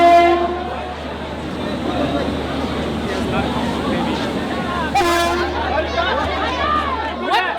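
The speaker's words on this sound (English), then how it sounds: "People are just climbing onto the train and it hasn't even come to a halt yet." An Indian overnight train from Delhi to Varanasi rolls through a station with a steady low rumble, a horn sounding near the start and again around the middle, with crowd chatter and voices throughout.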